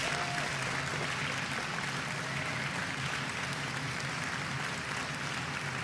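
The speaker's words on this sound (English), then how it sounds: "Big ol' round of applause" Passengers on a commercial flight from Cleveland to Milwaukee give a steady round of applause that fills the cabin, a continuous wash of clapping that holds evenly throughout.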